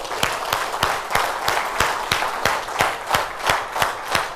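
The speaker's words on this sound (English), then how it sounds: "give a huge round of applause for yourself" Audience in a community talk hall clapping together in a steady, rhythmic round of applause, sharp regular claps repeating about every third of a second, fairly close and sustained throughout with no talking.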